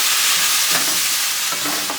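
Butter sizzling with stir-fried cabbage in a pan over low heat, a steady close hiss with a few scraping stirs, no talking.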